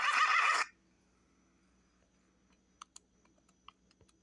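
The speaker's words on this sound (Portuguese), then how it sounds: "Cavalo com carruagem." A horse-and-carriage sound effect from the FilmoraGo editing app opens with a loud, brief horse whinny, followed by quiet scattered clicks like screen or keyboard taps.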